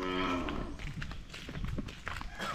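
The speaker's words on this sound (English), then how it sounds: "The cow is saying hi, huh?" Cow mooing near a jungle trail on Siquijor in the Philippines: a close, loud, drawn-out moo opens, followed by rustling and thumping movement.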